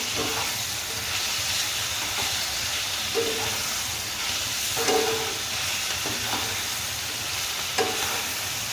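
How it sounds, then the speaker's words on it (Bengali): Grated ash gourd and ginger cook in a pan with a steady, loud frying sizzle and hiss, broken by occasional scrapes of stirring, no voices. "আমি 2-3 মিনিট এইভাবে আদার সঙ্গে আর চাল কুমড়োর সঙ্গে এভাবে মিশিয়ে রান্না করে নেব"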